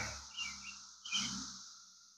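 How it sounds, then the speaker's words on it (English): Birds chirp and tweet in bursts outdoors in northern Illinois, with a steady high insect drone consistent with cicadas running underneath throughout. "If you hear the background, besides the birds, in northern Illinois, and these little guys are all over the place. So it is cicada time."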